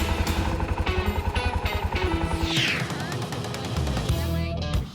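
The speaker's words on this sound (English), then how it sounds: "press the starter button to fire up the engine." A small ATV engine chugs in a rapid, even rhythm, cuts out briefly with a whirring starter sound, then catches and runs again, close and loud.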